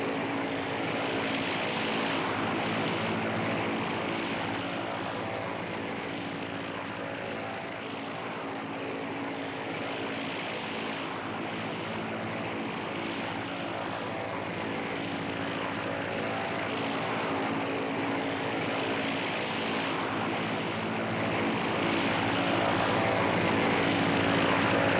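A steady, loud propeller aircraft engine drones continuously in flight, a constant cabin-level roar with no break and no other sounds.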